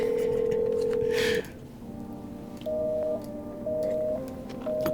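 Phone dialing in a video game: a steady tone that cuts off, then a series of short, evenly spaced beeps, clean and close, with no talk.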